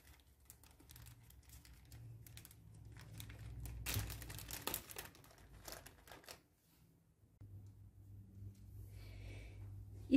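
A plastic bag crinkles and rustles as bead-embroidery materials are poured out of it, in close, irregular bursts with a louder cluster midway, then a short pause and softer handling.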